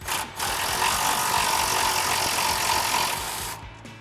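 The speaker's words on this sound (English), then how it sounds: "So now I'm going to take my 16mm on my 3/8 gun, get up in here, remove these two bolts." A 3/8 impact gun with a 16 mm socket removes upper bolts on a Jeep Wrangler JK while its shocks are swapped, one sustained close rattling burst after a short start, alone with no talk.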